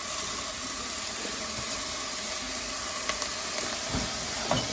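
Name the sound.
onions sautéing in a pan for copycat Outback onion soup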